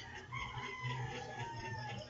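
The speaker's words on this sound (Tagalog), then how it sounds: "pasensya na sa manok" A rooster crows repeatedly close by, with clucking chickens in the background; no one talks.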